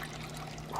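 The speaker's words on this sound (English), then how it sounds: "I've added this into a saucepan, and I'm gonna add some water" Water from a short pour runs into a saucepan holding chia pudding ingredients, a soft, close trickle lasting under a second with a faint steady hum beneath.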